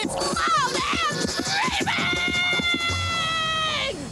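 Riders on a large looping roller coaster at a Scottish theme park scream loudly, with rising and falling shrieks and wails overlapping one another, sustained near and close throughout with some voices underneath.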